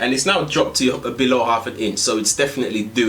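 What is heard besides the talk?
No distinct noise like a dog, phone or traffic.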